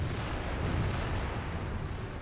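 Maus heavy tank ammo racks detonating in World of Tanks, a dense continuous rumble of artillery-like blasts and booms filling the whole stretch at steady loudness with no voices.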